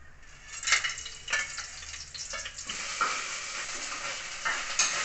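Whole spices such as bay leaf, cardamom, cinnamon and cloves fry in hot oil, giving a close, continuous sizzle with bursts of crackling and stirring scrapes.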